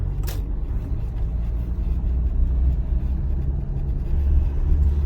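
A car drives along a road and turns right, its engine a steady low rumble with road noise throughout, near and continuous with no talking.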